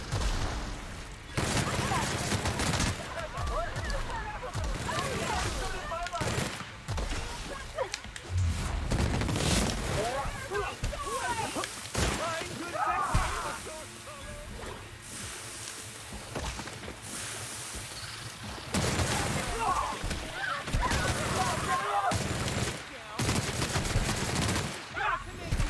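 Gunfire in The Outer Worlds, a sci-fi shooter, comes as repeated bursts of shots across the scene, broken by short quieter gaps, with game voices and talk mixed in.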